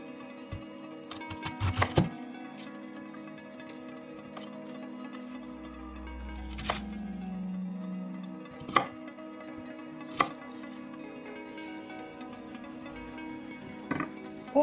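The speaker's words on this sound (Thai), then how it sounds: "แล้วก็กระหล่ำนะคะหั่นเป็นชิ้นเล็ก" A knife chops cabbage into small pieces on a cutting board in a quick cluster of taps, followed by a few slower, spaced cuts, quiet and close.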